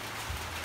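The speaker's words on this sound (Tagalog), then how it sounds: "Kusog ng ulan, oh." Heavy rain pouring steadily on a house in the Philippines, a dense even hiss with a faint low rumble underneath, no voices.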